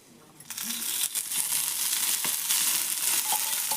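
Oil going into a pan for frying bhindi (okra) sukka palya, a rising hiss and crackle that starts after half a second and stays steady and close.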